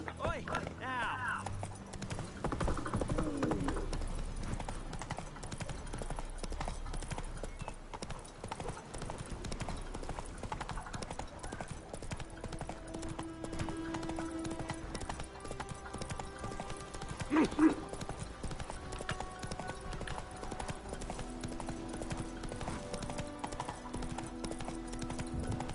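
Roach, a horse in the video game Witcher 3, gallops with steady, loud hoofbeats for the full clip. Game music and in-game voices play over the hooves, and there is a brief clatter near the end.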